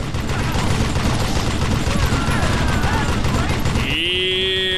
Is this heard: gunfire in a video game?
yes